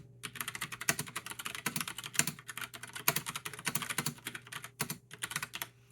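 Fast, uneven typing on a Logitech Pop Keys mechanical keyboard, close up, with crisp individual clacks in bursts and short pauses, no talk.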